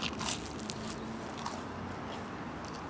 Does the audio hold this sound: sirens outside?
no